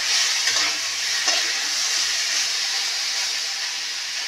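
Vegetables for shukto fry in a pan with a steady, close, hissing sizzle, joined by a few soft stirring touches; no one speaks.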